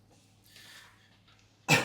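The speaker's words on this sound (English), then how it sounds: "Let me cough first before I say anything" A single sharp cough bursts out near the end, close and loud after a moment of faint breathy rustling.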